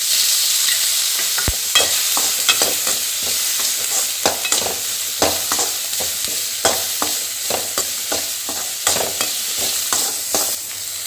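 Onions fry in a pan with a steady sizzle while a utensil stirs and scrapes, producing repeated clicks and knocks against the pan at irregular intervals.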